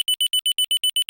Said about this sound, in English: if you check the smoke detector in your house, it would sound like this